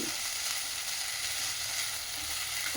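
Onions and ridge gourd peels for a chutney fry in oil, giving a steady, close hiss of sizzling with faint stirring, all the way through and with no talk over it.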